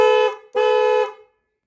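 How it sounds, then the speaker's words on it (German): Two blasts from a retrofitted dual-tone horn on a Moto Guzzi Stelvio motorcycle, loud and close, a short toot followed by a longer held blare, then silence. "Ich hube mal kurz, dass er das hört."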